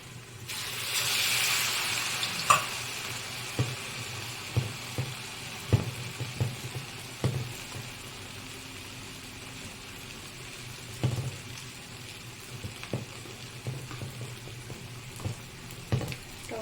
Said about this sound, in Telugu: సిమ్లో చక్కగా నురగంతా పోయే వరకు చక్కగా వేయించుకోవాలి గారెల్ని.